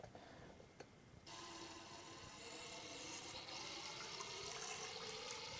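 Water rushes steadily from a hose attachment, a soft start then a continuous hissing spray that persists to the end, rinsing soapy water from the inside and outside of a trombone.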